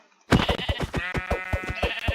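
A string of rapid, rhythmic Minecraft sheep bleats starts abruptly after a brief silence, repeating steadily at close range with a slightly synthetic quality.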